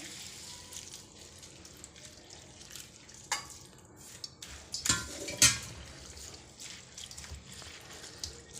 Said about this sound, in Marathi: आता धुवून घेऊया यात पाणी टाकायचं